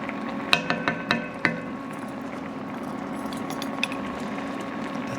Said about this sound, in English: That's a beautiful simmer right there.